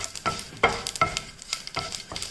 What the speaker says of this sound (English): curry leaves, let it splutter. Now add dry chilies